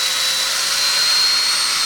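A power drill with a 9/32 inch bit bores a hole to the full depth of the bit, giving a steady, close, unbroken whirring grind that holds at an even level throughout.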